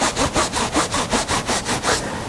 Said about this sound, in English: the rubbing of my shirt